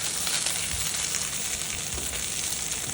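Steak searing in a hot pan, a steady close sizzle and crackle of frying meat filling the whole stretch with no talk.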